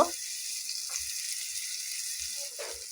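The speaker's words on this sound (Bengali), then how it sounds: "একটু ভেজে নেব আলু আর কাঁচা লঙ্কাটা।" Potatoes and green chili fry in a pan, a soft, low sizzle running quietly throughout with a few faint stirring knocks.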